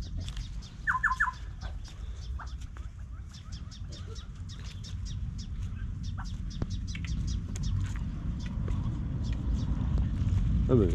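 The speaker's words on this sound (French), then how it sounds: "Il y a plein d'oiseaux." Many birds call and chirp in short bursts over steady low rumble and background noise outdoors in Senegal, with one brief louder trill near the start.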